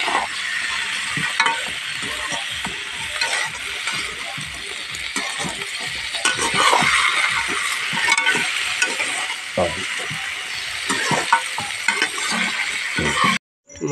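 Potato and jackfruit curry is stirred in a pan with a loud, steady sizzle and rapid, rhythmic scraping and rattling of the spoon. Faint voices are heard in the background, and the sound cuts out briefly near the end.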